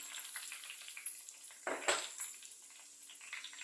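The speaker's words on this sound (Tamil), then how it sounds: "முந்திரி, ஃபுல்லுமே பொன்னிறமாக ஆகிற வரைக்கும் வறுக்க வேணாம்." Cashews roasting in a pan for millet pongal: a quiet, continuous light sizzle with soft stirring noises and one brief, louder scrape near the middle.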